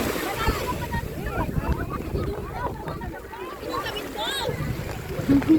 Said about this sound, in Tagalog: Yan, lakas ng alon.